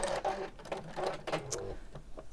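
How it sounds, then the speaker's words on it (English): A sewing machine stitches two pieces of fabric together with a narrow stitch, its steady mechanical whir and rapid needle clatter running close and continuous for a couple of seconds without any talk. "we're going to sew these together"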